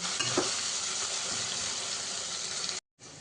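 Masala fries with salt and turmeric in a pan, a steady close sizzle with stirring scrapes, quiet and uninterrupted until it cuts off briefly near the end, with no voices.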